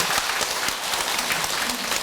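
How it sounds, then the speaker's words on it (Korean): An audience at a Buddhist dharma assembly led by a monk breaks into applause, a close, full burst of many hands clapping steadily and evenly throughout. "박수 치려고?"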